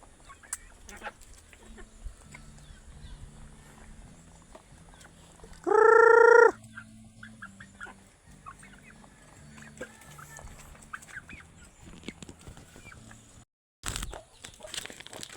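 Native chickens and chicks cluck and peep while feeding, soft scattered calls close by, broken by one loud, sustained squawk midway and a brief louder burst near the end.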